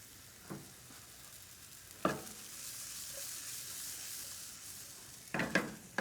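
Leeks sizzle in olive oil in a pan, a faint, steady hiss under a few brief clinks and stirring taps, with no talk.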